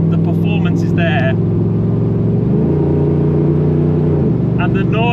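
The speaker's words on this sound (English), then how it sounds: "And the noise, it's just got this deep rumble, and you'll be able to hear it on the camera" A 550hp LS3 V8 Land Rover Defender engine drones with a deep, steady rumble close by, shifting pitch partway through as someone talks over it.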